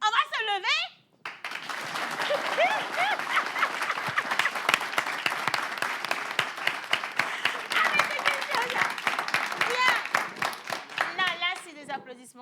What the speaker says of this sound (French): Applaudissements, c'est toujours léger.